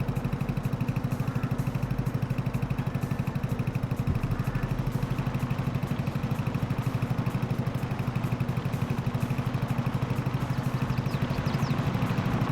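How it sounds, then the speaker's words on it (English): A Porsche diesel tractor engine idles steadily in Farming Simulator 22, a continuous low rhythmic chugging with mechanical clatter that stays even and loud throughout, with no talking. "It's actually a very cute tractor."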